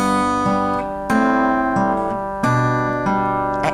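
Acoustic guitar fingerpicks the opening of a song, clear ringing plucked notes over a sustained low string, a few phrases played close and alone.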